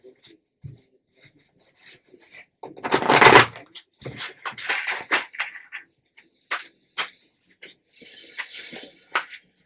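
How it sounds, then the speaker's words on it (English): Tarot cards shuffled and cut by hand, giving a dense burst of riffling, then scattered soft slaps, rubs and taps of cards on a table, close and fairly quiet, with brief voice sounds in between. "Shuffle and cut"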